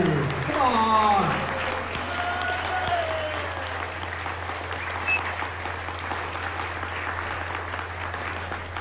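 Steady, loud audience applause filling a hall at a pinball tournament final, sustained clapping from a crowd that stays dense throughout, with a voice calling out briefly near the start.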